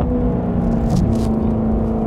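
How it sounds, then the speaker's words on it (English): Maserati Quattroporte with an aftermarket exhaust, rumbling steadily on a 3000 RPM downshift into second gear, a dense, continuous engine drone heard from nearby with no speech over it. "This is 3000 RPM downshift."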